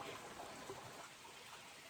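Creek water flowing over rocks on a Red River Gorge hiking trail, a soft steady broadband rush and trickle, faint and continuous with no voices.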